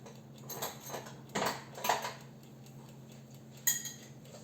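Valrhona Azélia chocolate being stirred in a bowl, with a few soft scrapes and light clinks of utensil against the bowl, sparse and fairly faint over a low steady hum.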